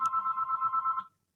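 A landline telephone rings once in a steady electronic trill lasting about a second and then stops, clear and moderately loud against a quiet room.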